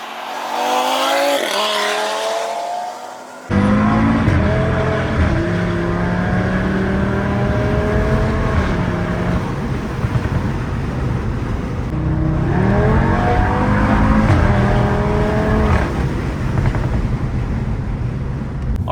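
A Stage 2 Audi RS3 making about 520 bhp accelerates hard, its engine note rising through the gears with brief drops at each shift, loud and close, while the tires squeal at moments.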